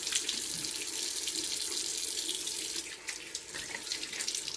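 Tap water runs steadily into a bathroom sink while face cleanser is rinsed off, a close, continuous splashing hiss with small splashes from hands in the stream.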